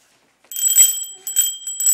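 A new child's bicycle bell rings in several bright, close metallic trills, starting after a short silence and repeating at an uneven pace.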